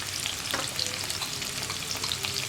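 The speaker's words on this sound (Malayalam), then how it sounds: "പിന്നെ ഇനി ഇതൊന്ന് നന്നായിട്ട് വഴറ്റിയെടുക്കുക." Chopped onion and sliced green chili sautéing in a pan as they are stirred for chilli paneer, with a steady close sizzle and light scraping throughout.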